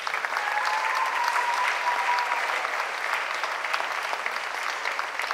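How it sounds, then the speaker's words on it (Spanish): Audience at a ballet academy closing ceremony applauds steadily, a dense even patter of clapping from a sizeable crowd that holds at a moderate level throughout. "Un aplauso."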